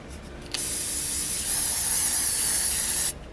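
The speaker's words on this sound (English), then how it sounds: "And I'm just spraying it with hairspray." Hairspray hisses steadily from an aerosol can onto a wet crocheted figure, one continuous close, loud spray lasting about two and a half seconds before it cuts off.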